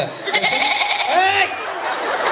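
Goats bleat in a few short, wavering calls at a rural gathering in Charegaon, Satara. The calls are moderately close, mixed with chatter and light laughter nearby.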